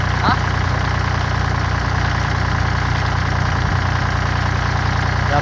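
An engine-driven water pump runs steadily, filling a rice field with water, a loud, close, unbroken droning rumble with a slight knocking pulse throughout.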